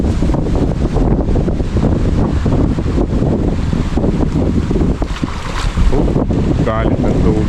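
Strong rushing floodwater after a typhoon, a loud, close, continuous roar of churning water mixed with heavy wind buffeting the microphone, with voices talking faintly over it.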